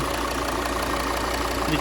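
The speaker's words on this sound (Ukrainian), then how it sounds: "Двигун працює рівненько" A 2011 Volvo XC60 2.4 diesel engine idles with a steady, even low rumble that holds without change throughout, close and fairly loud.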